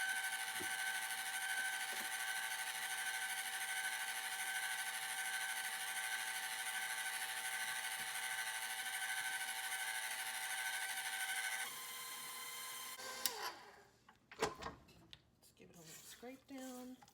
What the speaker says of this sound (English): feels like a paddle attachment kind of moment.